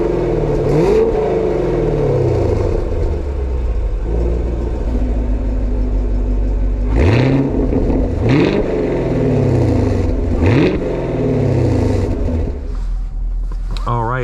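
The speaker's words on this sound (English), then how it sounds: "Let's hear this exhaust real quick," A 2024 Chevy Camaro SS Collectors Edition V8 revs hard several times in quick bursts, each rising exhaust roar falling back to a deep, burbling idle, loud and close.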